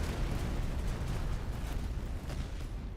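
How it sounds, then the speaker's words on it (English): Howitzer artillery fire in the Master of Command battle game, a dense continuous rumble of booming blasts close and loud throughout, with no voices. "This is Suval's howitzer"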